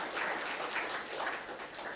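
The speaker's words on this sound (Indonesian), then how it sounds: "Boleh kasih tepuk tangan buat kemuliaan Tuhan" Applause from a church congregation during a sermon, a steady broadband patter of many hands clapping at moderate level with no speech over it.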